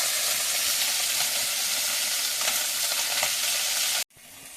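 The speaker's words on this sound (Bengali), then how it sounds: "মাছটা ভাজা হচ্ছে।" Fish frying in a pan on a home stove gives a loud, steady sizzle and hiss that runs on evenly, then cuts off abruptly near the end.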